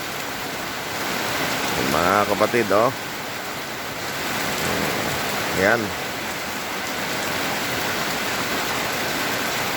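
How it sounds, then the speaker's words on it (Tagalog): Heavy rain pours steadily in Bulacan as a dense, constant wash of hiss that lasts throughout, with someone speaking briefly over it. "Ayan, ang lakas po ng ulan talaga."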